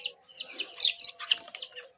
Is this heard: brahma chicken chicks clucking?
yes